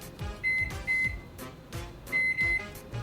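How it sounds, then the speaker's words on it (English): A microwave oven runs with pasta inside, giving a hum that rises and falls in steady pulses, with a few short electronic beeps mixed in. "You're just gonna take that, put it in your microwave, just like that, for 15 minutes."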